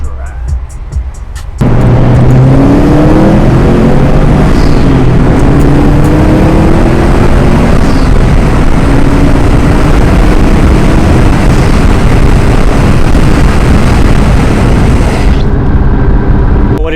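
Subaru STI accelerating hard on a drive: a loud, close engine roar kicks in suddenly and holds strong with rising engine notes, then cuts off near the end.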